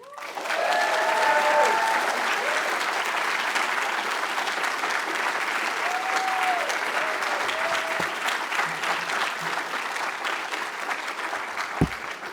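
An audience claps steadily to welcome Professor Kelley at an evening lecture, the applause filling the room from start to finish and slowly thinning toward the end, with a few faint voices underneath.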